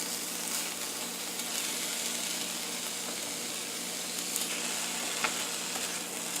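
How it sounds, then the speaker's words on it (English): Ground beef browns in a pan while it is stirred and broken into clumps for tacos, giving a steady, even sizzle and hiss throughout, close and moderately loud, with no voice. "what we're going to do is brown the meat here"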